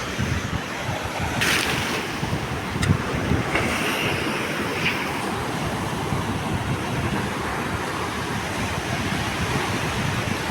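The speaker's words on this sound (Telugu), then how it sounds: "చూసారా కరటాలు ఎంత ఎంత భయంకరంగా వస్తున్నాయో" Ocean waves crash continuously at Rushikonda beach, a loud dense roar of surf mixed with wind buffeting the microphone, with no voices.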